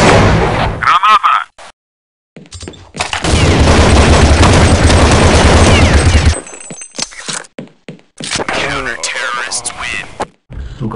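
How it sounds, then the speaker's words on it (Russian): Explosions and bursts of gunfire in Counter-Strike 1.6, loud and close, with a long rumbling blast in the middle and sharp shots around it, while a voice shouts over the game. "Граната! Граната!"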